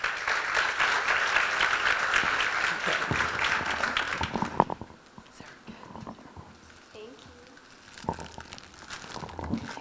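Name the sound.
applause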